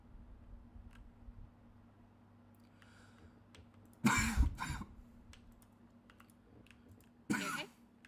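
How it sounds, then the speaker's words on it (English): Two sudden, loud coughs close to the mic, the first a harsh burst with a short tail and the second briefer a few seconds later, over faint clicking and a low hum. "That cough came from nowhere."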